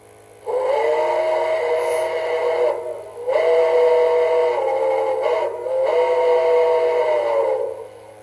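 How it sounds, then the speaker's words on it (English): A Bachmann model of the Southern Pacific 4449 Daylight steam locomotive blows its whistle in three long steady toots with short gaps between, loud and clear over a faint electrical hum. "I like the whistle on the model."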